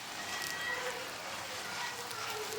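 Brinjal fries on a tawa with a faint, steady sizzle, soft and continuous, with a thin background hum and no clear voices.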